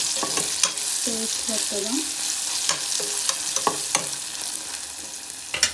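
Onions frying in hot oil for egg biryani, stirred with a utensil that scrapes and taps the pan in irregular strokes over a steady sizzle; a voice speaks briefly near the end.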